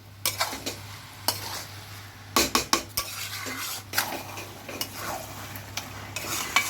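Beef tripe bhuna being stirred in a pan, with repeated metallic scrapes and clinks of a utensil against the pan over a steady low sizzle of frying oil, close and loud, no talking.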